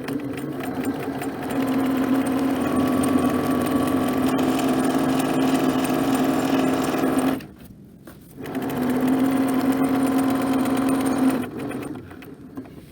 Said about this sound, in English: We want to make sure that we backstitch to secure those stitches, and we'll be stitching and pivoting at our corners.